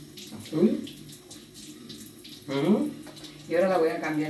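Water running from a faucet into a Platinum 501 water ionizer, a steady stream heard under someone talking in bursts.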